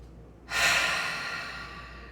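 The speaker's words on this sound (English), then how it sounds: "Take a nice inhale through your nose and exhale out your mouth." One person takes a slow, steady breath in through the nose and lets it out through the mouth, heard as a single soft, close airy whoosh that fades gradually, with no talk.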